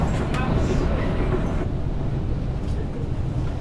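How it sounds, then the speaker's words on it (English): A brand-new passenger train in Senegal rolling along rails with a steady low rumble and faint rattles, heard from inside a carriage, with a murmur of voices in the background. "Riding the rails."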